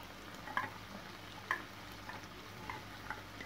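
Onion, pepper and garlic fry quietly in a pan, with a soft sizzle and a few distinct taps and clinks of a stirring utensil against the pan.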